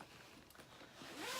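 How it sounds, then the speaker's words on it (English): Zipper on a carry-on luggage case, a faint, quick rasping pull that rises and grows louder toward the end in a quiet room. "This luggage actually has the other zipper that makes this wider."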